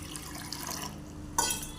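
Salt water poured into rice flour in a kitchen, a soft steady trickle of liquid that grows briefly louder and brighter near the end, close and alone without talk.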